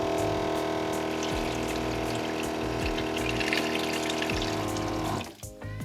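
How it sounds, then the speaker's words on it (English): Small electric water pump in a Ford Ranger pickup truck camper runs with a steady, continuous hum and water flow at close range, cutting off near the end. "So there's a switch on the side here that activates the pump."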